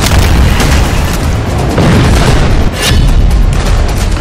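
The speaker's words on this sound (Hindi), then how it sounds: "एक मिसाइल धमाका" A heavy, rumbling missile explosion with sustained broadband roar, loud and close, continuing for several seconds without any voices.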